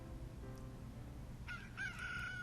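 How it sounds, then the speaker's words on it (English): A rooster crows in the dating sim visual novel Summer Paradise: a short harmonic call enters at about 1.5 s and a longer one follows, both at moderate level over a steady background hum, with no talk. "Damn you, Rooster! Shut the fuck up!"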